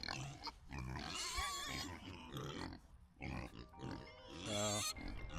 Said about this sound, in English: I showed you the pigs